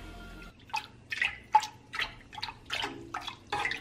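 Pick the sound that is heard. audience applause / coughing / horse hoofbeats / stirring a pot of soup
stirring a pot of soup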